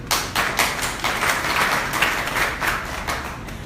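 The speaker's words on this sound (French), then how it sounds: "on l'applaudit" Applause at a photography festival in Haiti, with distinct individual claps standing out in an irregular rhythm over a steady clapping crowd, moderately loud and fairly close.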